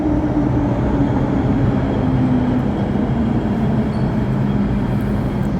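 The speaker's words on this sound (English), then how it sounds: "The train to Polam is arriving." An MTR metro train arrives at Yau Tong station in Hong Kong, a loud, steady rumbling roar of the carriages rolling in close by, with a faint squeal running through it and no voices.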